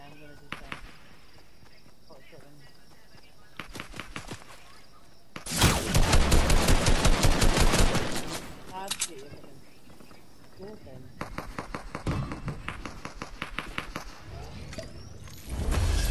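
Fortnite gunfire arrives in several bursts: short volleys early on, then a loud sustained barrage of rapid shots, and later more clusters of rapid shots separated by quieter gaps.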